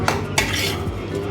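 A metal spoon scrapes and clinks against a pan as broad beans fry with pepper and cumin is transferred into a bowl, producing brief clatters over a soft hiss.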